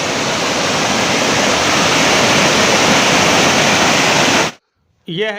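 A mountain waterfall in Kinnaur roars loud and steady close by, then cuts off abruptly near the end, followed by a brief voice.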